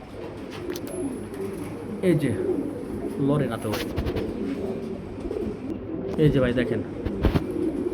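Pigeons in a breeding loft of fancy breeds coo in low, repeated throaty bursts close by, mixed with occasional chirps and soft flutters while someone talks over them.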